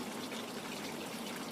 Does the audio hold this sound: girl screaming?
no